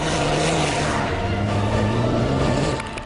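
A loud, steady rally car engine drone with a shifting pitch on a Dakar Rally desert stage, held throughout at close range before easing slightly at the end.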